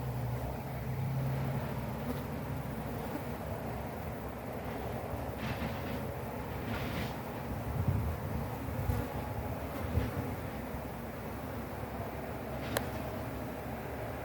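Honeybees from an open defensive hive, opened to pull honey frames, hum in a steady dense drone that carries through the whole stretch, with brief louder swells where bees pass close.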